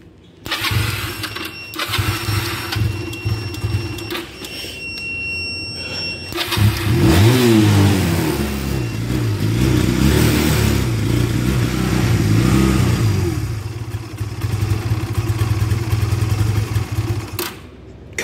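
Engine with its choke fully off cranks and sputters, then catches and revs in rising, wavering surges before settling into a steady idle, loud and close, with a few muttered words in between.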